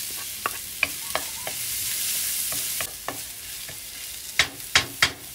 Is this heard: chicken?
yes